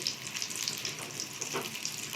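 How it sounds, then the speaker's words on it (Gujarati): Batata vada frying in hot oil makes a soft, steady sizzle with light crackling bubbles, fairly quiet and close, with no talking. "આ રીતે આપણે બધાને તળી નાખશું"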